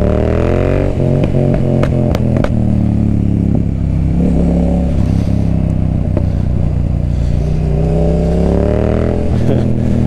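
A motorcycle with an Akrapovic carbon exhaust and its baffle removed revs loudly and continuously, with a quick run of sharp throttle blips early on before settling into a deep, droning roar close by.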